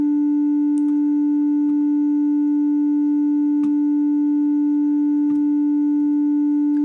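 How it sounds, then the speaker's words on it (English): Steady pure tone from the VCO output of a self-generating VCV Rack synth patch. It holds at one pitch with faint harmonics, and soft clicks and ticks occasionally sound beneath it. No talking. "now we got here an output to our VCO, and let's listen to that"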